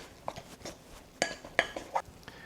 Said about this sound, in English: Just stir what you've got into a nice little shaggy mess